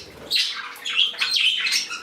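A flock of pet birds, a canary among them, gives bright squawks and chirps in quick overlapping bursts, close and fairly loud, with no talking.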